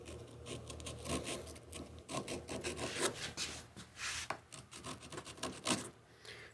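A WoodRiver riffler rasp files across wood in quick, uneven scraping strokes, soft and close, each rasp a short gritty burst with faint pauses between.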